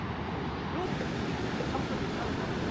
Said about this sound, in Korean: 파도 소리에 귀가 시원해집니다.